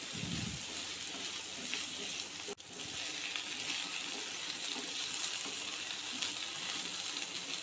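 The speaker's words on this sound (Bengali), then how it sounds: "আলুটা এইভাবে বেশ কিছুক্ষণ ধরে তেলে ভেজে নেব" Round potato slices frying in oil in a home kitchen, a steady soft sizzle and crackle that holds throughout, close but quiet, with one brief knock partway through.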